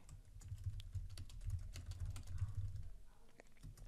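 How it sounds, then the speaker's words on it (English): Rapid, steady typing on a computer keyboard, a dense run of close, light key clicks with no pauses and no voices. "Once again, I'm going to go ahead and type a message."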